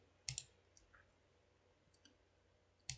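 Several sharp computer mouse clicks while publishing a web page, a quick double click near the start, a few faint taps in between, and another double click at the end, all against near-silence.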